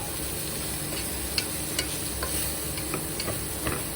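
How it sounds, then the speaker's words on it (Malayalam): Papaya and cow beans for a Kerala-style thoran being stirred in a pan over low heat, a steady close sizzle with light scraping taps of the spoon recurring every half second or so. "ജസ്റ്റ് ഒന്ന് ഇളക്കി കൊടുത്താൽ മതി. ചെറിയ തീ വെച്ച് വേണം ഇളക്കാനായിട്ട്"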